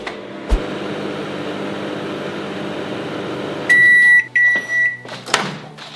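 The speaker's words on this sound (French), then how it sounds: "on va remettre ça au four à micro-ondes pendant 1 minute" A microwave oven runs with a steady hum, then a short series of loud electronic beeps and a door click as it finishes, close by with no talking.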